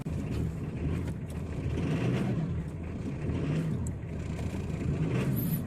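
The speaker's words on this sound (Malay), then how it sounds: "Oke, lepas sudah hidup kereta nih." A Ford car engine idles steadily after a hard cold start, a continuous low rumbling hum close to the microphone, with no talk.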